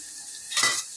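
Egg fry seasoned with turmeric is stirred in a hot pan, a short scraping swish of a spatula rising over a faint background sizzle, close and brief with no voices.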